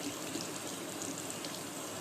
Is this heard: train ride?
no